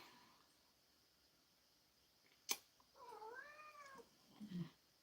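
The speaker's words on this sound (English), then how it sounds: "and we have a cat here." A cat meows once in a drawn-out, wavering call, faint against a quiet room background, preceded by a brief sharp click and followed by a short low murmur.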